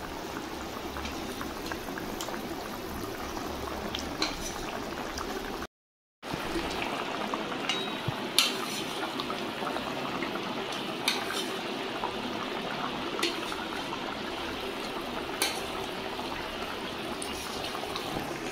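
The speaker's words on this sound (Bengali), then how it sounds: "একটু সময় জন্য ফুটিয়ে নেব" A pot of hilsa fish curry with brinjal and fried fish bubbles and simmers steadily throughout, with soft popping and gurgling at a constant level and a brief silent gap.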